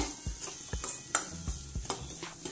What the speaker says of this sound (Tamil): நல்லா கிண்டி விட்டுருவோங்க